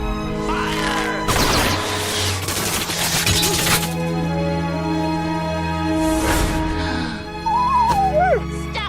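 Gunfire erupts in a film battle scene from the King Gesar epic: loud, broadband bursts and cracks cluster in a long volley, then strike again briefly later, all over sustained music with a whistling tone near the end.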